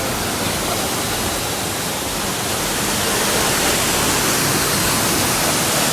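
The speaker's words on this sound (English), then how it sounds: "y'all see this waterfall?" The Rio Seco waterfall in Trinidad roars as a steady, loud, broadband rush of falling water, with no other sound above it.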